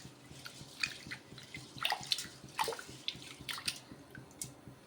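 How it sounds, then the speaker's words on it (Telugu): Ration rice being washed in water by hand in a kitchen bowl, with repeated splashing, swishing and dripping sounds close up, irregular and moderate in loudness. "ఇలా నీళ్ళు అనేది వేసేసుకొని ఒక 2 సార్లు వాష్ చేసేసుకుందాం ఈ బియ్యాన్ని"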